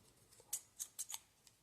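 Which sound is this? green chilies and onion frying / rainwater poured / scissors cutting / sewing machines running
scissors cutting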